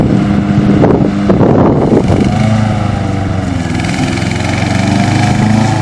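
A small remote-controlled S Class lawn mower grinds steadily through thick two-foot grass on muddy ground, its engine drone loud and continuous with wind buffeting the microphone throughout.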